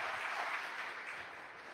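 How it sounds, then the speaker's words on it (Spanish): A church congregation at a Sunday Mass applauds, with soft, steady clapping from many hands, somewhat distant, fading slightly toward the end. "Un buen aplauso para Julia García, un buen aplauso."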